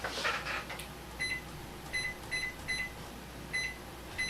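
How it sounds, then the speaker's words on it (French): A Panasonic NN-SD767W microwave oven in demo mode gives short, thin electronic beeps in small clusters spread over several seconds, faint against a quiet room hiss, with no one speaking. "Les micro-ondes Panasonic, plusieurs modèles ont ce qu'on appelle un mode démo."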